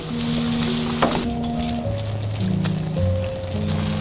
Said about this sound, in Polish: Całość smażymy przez 10 minut na średnim ogniu.